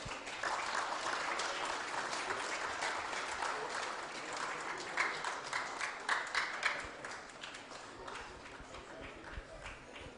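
Spectators clap for the winners of a boys under-9 tennis event at a prize presentation, with a steady round of applause that swells and then thins into scattered, sharper claps near the end.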